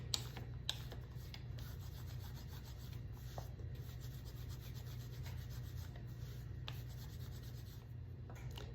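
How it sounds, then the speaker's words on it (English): Dough rolled flat on a floured surface with a rolling tool during home cooking for a large family, giving a steady, continuous rubbing and rolling friction with a few light knocks, close and alone with no talk. "We want to use our tool and roll it out as flat as we can."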